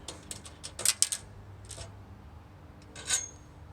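Metal parts of a stencil mover scrape and clink as a piece is slid up after its wing nuts come off, a few quiet close rubs and taps in brief bursts with no talk.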